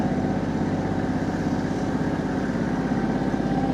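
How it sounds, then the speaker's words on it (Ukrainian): A Kubota GL25 tractor's diesel engine runs steadily while the tractor turns in place, a loud, continuous close rumble with an even, throbbing pulse and no speech. "трактор буде навколо своєї усі крутитися і розвертатися з місця"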